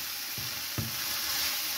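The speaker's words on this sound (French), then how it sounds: "on mélange bien le tout" Floured mushrooms (saffron milk caps) sizzle steadily in a hot pan while being stirred, with two soft scraping knocks of the utensil against the pan; no talking.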